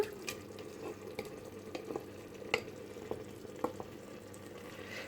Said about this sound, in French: je vais ajouter la carotte et la courgette que j'ai mixé dans le hachoir